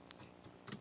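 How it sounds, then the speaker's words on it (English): Quick, light keystrokes on a computer keyboard, a short burst of soft clicks picked up faintly by a nearby microphone. "I can hear Magnus typing aggressively"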